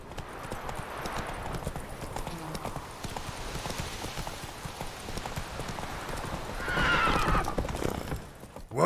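Roach the horse in The Witcher 3 trots with steady, close clip-clop hoofbeats, then lets out a loud neigh near the end. Faint voices are heard briefly.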